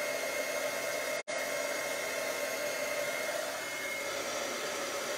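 A heat tool blows a steady, hissing, fan-like roar while melting embossing powder on a card. It runs close and continuous, with one brief cut-out early on, and no voices over it.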